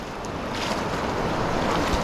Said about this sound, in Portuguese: É um pouquinho de cachoeira, né?